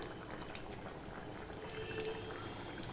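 Fish egg koftas simmering in curry with green chillies, a steady, close bubbling and soft liquid churning that holds even throughout without any talk.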